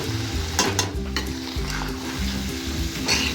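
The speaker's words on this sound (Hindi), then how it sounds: "और मसाले में मसर की जो है वो भुनाई कर लेंगे अच्छे से।" Soaked whole masoor lentils fry in masala in a pot, a dense, steady sizzle broken by repeated scraping strokes of a spoon stirring, loud and close with no voices.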